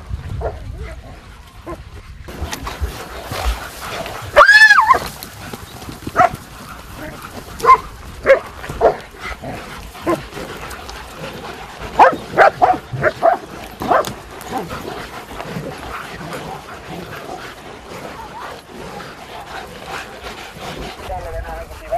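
Hunting dogs bark, yip and whimper in a chaotic scuffle as they catch a deer, with repeated loud close barks over noisy rustling and a voice talking throughout.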